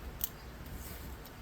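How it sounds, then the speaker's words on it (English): Scissors snip quietly through paper while cutting around a craft piece for a tabletop witch's hovel model, a faint soft shearing with a couple of light clicks against low background noise. "And I'm just going to cut out around it."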